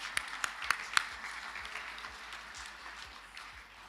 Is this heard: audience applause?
yes